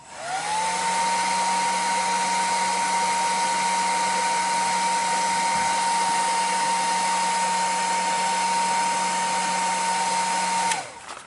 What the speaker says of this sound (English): on cold days you certainly want to use a heat gun